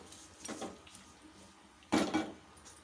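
A spoon clinks and scrapes against a pan while Mangalore chutney ingredients are stirred and sautéed, with a soft knock early on and a louder cluster of metallic scrapes near the end against faint background noise.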